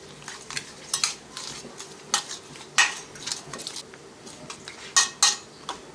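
Tengra fish being mixed with salt and turmeric in a bowl, a run of close clinks and scrapes of utensil against dish in uneven bursts, with no talking.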